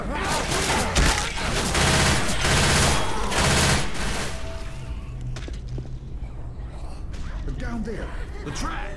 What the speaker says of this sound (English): I am trying to shoot the other people.